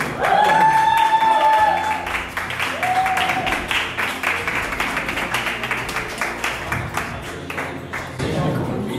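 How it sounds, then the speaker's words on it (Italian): Audience applause at a poetry slam event, steady rhythmic clapping that carries on after a few opening tonal chimes, moderately loud and with some voices mixed in. "lo accogliamo anche noi con un grandissimo applauso di Eugenio Griffoni"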